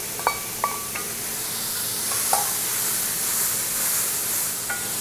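Carrots and celery sizzle in a pot over medium-high heat, a steady hiss broken by a few sharp clacks of stirring and scraping, close and alone with no talk.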